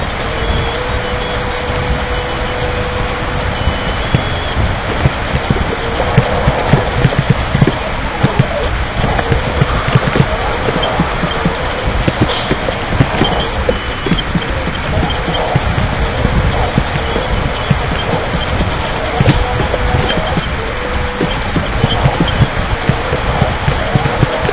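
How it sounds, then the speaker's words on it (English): Steady rain from the Pokemon Sapphire game world pours as a dense, loud, continuous hiss for the whole stretch, with faint game tones mixed in and no talking. "look at that rain"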